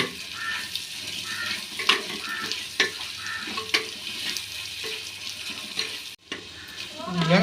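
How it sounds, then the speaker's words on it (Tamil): Onions sauté in oil in a pot for mutton biryani, a soft continuous sizzle with repeated scraping and stirring clicks, steady and close, ending in a brief gap and a louder scrape. "வெங்காயத்தையும் நம்ம நல்லா பொன்னிறமாக வதக்கி எடுத்துக்கலாம்."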